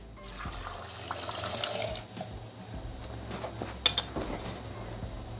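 Hot water poured into a Thermomix TM6 bowl over potatoes, a soft continuous trickling and splashing with faint clinks of kitchenware, quiet and close with no talking.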